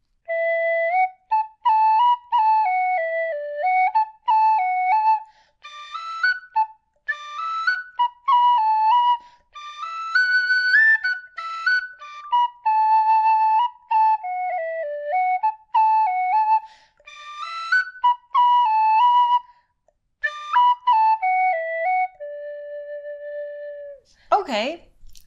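A tin whistle plays a tune being learned by ear, with clear, bright phrases rising and falling, brief pauses between runs and repeated passages, close and fairly loud, ending with a short knock.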